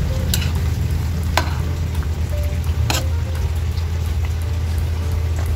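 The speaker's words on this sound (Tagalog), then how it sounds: "Haluin lang natin guys para kumailalim yung ating mga kangkong para mabilis maluto." Kangkong greens stirred into a simmering pot of pork belly sinigang, a steady bubbling boil with sizzle-like crackle and a few sharp utensil scrapes against the pot, close and continuous with no talk.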